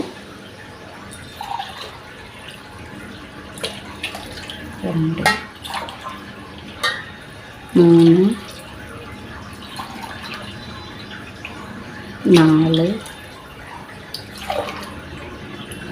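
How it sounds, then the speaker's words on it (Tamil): Water pours into a pot of paneer biryani in a few short splashing bursts, five tumblers in all, with a person speaking briefly between them. "தண்ணி சேர்த்துடலாம். 5 டம்ளரு."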